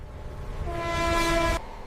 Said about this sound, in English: A modern, high-speed electric train glides smoothly across the new transoceanic railway.